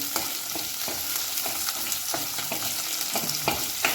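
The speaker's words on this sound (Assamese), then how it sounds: "এতিয়া মই আলুগুটি কেইপিচ ইয়াত দি দিছোঁ, অকণমান লৰাই লওঁ।" Potato pieces sizzle and fry in oil in a pan, loud and close, with a steady hiss broken by a regular rhythm of spatula scrapes as they are stirred, no voices.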